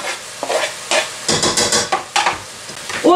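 Sliced carrot sizzles in a hot frying pan while a utensil stirs it in repeated scraping strokes, loud and close, with no talking.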